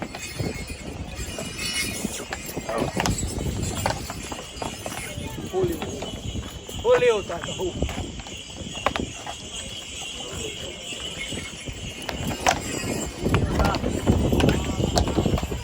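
Horse hooves clip-clop in a steady rhythm close by in Vicovu de Sus, Bucovina, with people talking over them and occasional rattling.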